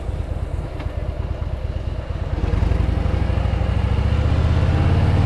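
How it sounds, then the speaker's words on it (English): A motorcycle engine idles and rumbles in slow city traffic near a café, a steady low throb that swells louder about halfway through as the rider eases forward, with no talk. "Certainly feel the engine heating up, warming up my thighs."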